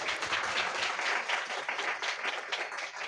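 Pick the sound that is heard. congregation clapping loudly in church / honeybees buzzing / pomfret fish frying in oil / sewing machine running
congregation clapping loudly in church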